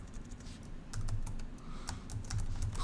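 Rapid clatter of typing on a computer keyboard, close and clear, with uneven bursts of keystrokes and short pauses between them and no talking.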